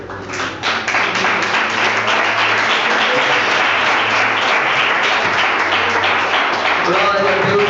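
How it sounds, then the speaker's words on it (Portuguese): A church congregation claps steadily for several seconds as people take their seats, a dense, continuous patter of many hands with a low tone sounding underneath and a voice speaking over it. "Toma o seu assento com palmas para Jesus."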